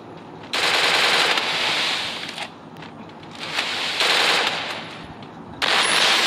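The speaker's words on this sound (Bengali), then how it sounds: "MP40 দিয়ে একটা ভালো একটা হেডশট লাগাই দিছে তাকে AN হুসাইন" Rapid bursts of MP40 submachine gun fire in the shooter game Free Fire, loud sustained automatic volleys in three long strings with brief pauses between, no voices.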